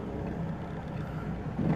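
Car with electronic stability control and front-wheel drive rolling along a narrow rural road, a steady low engine and road rumble heard from inside the cabin, rising slightly at the end, with no talking.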